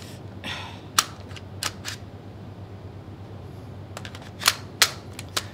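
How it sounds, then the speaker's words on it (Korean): A G&G SGR 556 airsoft rifle firing, giving sharp, snappy shots spaced irregularly over several seconds, some single and some in quick pairs, against a low steady hum and no talk. "자, 요거 사격 한번 해보겠습니다."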